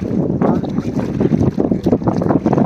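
A boat moves across the water through a mangrove forest at Pichavaram, giving a steady, loud rumble and wash with wind buffeting the microphone throughout.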